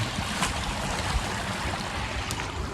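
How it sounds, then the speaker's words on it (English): Creek water rushing steadily across a rough, flooded dirt road in the Ouachita mountains, a continuous broadband wash with faint gurgles, close and unchanging throughout. "There's a creek right here, and a lot of water on this road"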